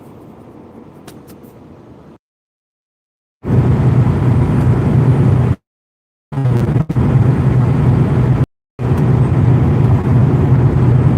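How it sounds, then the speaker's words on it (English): Engine noise fills a truck cab as a steady low rumble, with a quieter stretch at first, then loud continuous droning broken by abrupt silent gaps. "y'all are going to get truck noise because I got to plug my batteries in"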